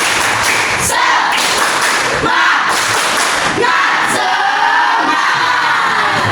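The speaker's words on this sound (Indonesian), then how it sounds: "Sekali lagi. Tepuk semangat." A classroom of children performs the 'tepuk semangat' spirit clap at a morning lesson, with loud rhythmic thumping claps and shouts filling the room throughout.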